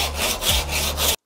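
Handsaw cutting through an MDF board on a table: a short burst of steady back-and-forth rasping strokes, close and loud, with a low hum underneath, ending abruptly.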